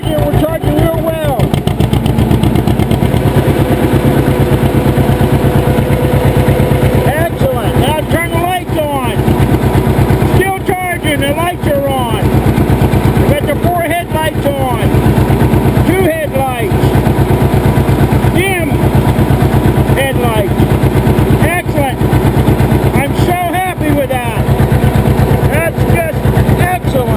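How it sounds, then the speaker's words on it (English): A John Deere 720 tractor engine runs steadily nearby, its loud, rhythmic two-cylinder thumping continuous throughout, with someone talking intermittently over it. "So there we are with the tractor running."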